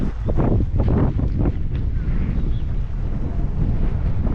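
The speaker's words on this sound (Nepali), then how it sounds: "आम्मामा हावा कस्तो मिठो चलेको" Strong wind buffets the microphone in a constant loud roar, with low rumbling gusts throughout.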